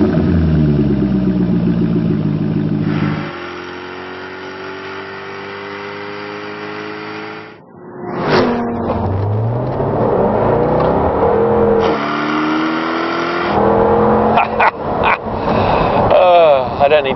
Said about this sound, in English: This supercharged Jaguar V8 engine is one of the world's all-time great motors.